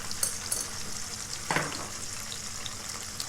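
Small soaked peanuts deep-fry in hot oil, a continuous bubbling sizzle close up, with a louder burst of crackling and a stirring clatter midway.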